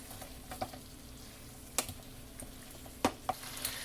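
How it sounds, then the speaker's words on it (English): Sliced onions, red and yellow bell peppers and garlic cloves are stirred together in a pan for beef tibs, giving a faint, steady sizzle broken by a few sharp scrapes and clicks of the utensil. "And now we're just going to mix everything together."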